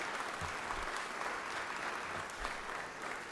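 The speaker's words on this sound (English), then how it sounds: "So y'all give them a round of applause." Applause fills a state senate chamber for the Ralston family, a sustained even wash of many hands clapping, fairly distant and without voices.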